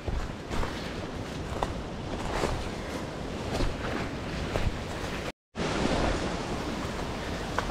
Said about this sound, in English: now we hit this little waterfall. It's actually flowing quite well.